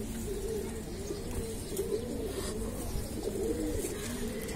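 Domestic pigeons, a loft of birds including an old racing pigeon, cooing steadily in low throaty repeated calls, close and continuous with no talking.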